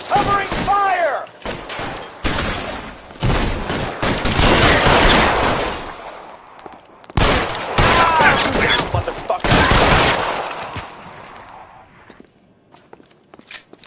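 Gunfire in L.A. Noire Remastered: loud, close bursts of rapid shots and a long fusillade, broken by brief pauses, with footsteps and a few scattered shots as it tapers off at the end.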